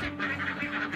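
Laying ducks in a farm pen give a second of loud, nasal honking quacks in a quick rhythmic series, close to the microphone.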